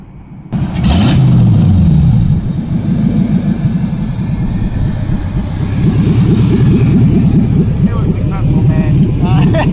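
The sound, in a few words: LS-swapped Chevrolet Colorado engine revving, cutting out near 2000 RPM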